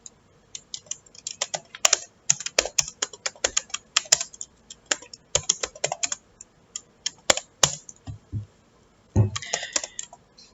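Rapid, irregular clatter of keys on a computer keyboard as Python code for managing S3 storage is typed, close and fairly quiet, with brief pauses between bursts and no talking.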